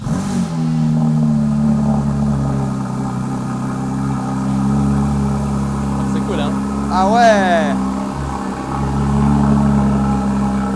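A straight-piped Porsche GT3 engine idles after a cold start with a deep, steady rumble throughout, and people chat briefly over it, with a couple of clicks partway through.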